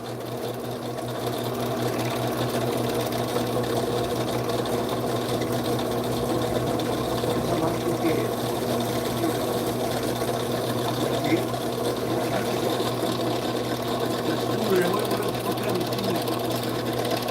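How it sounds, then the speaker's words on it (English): A Triangle Sports HD 140 spooling machine winds hollow-core braided line onto Abu Garcia fishing reels, a fast steady mechanical whir with a constant motor hum throughout, close and continuous. "The spooling machine? It's called a Triangle Sports HD 140."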